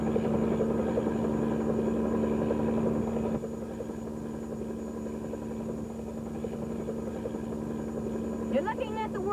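A steady helicopter drone with thumping rotor hum throughout, loud and close, easing slightly partway through as it sets down in Antarctica, with faint voices underneath.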